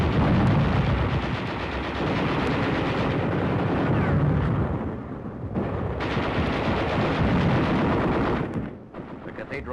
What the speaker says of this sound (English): There is some machine gun fire and occasional shells, but little concerted resistance.